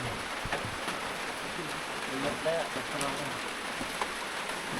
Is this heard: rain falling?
yes